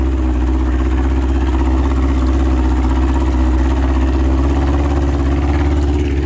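Honda outboard motor pushing a boat slowly on Lake Te Anau, a steady loud droning hum with a low rumble and constant water wash, unchanging throughout without voices.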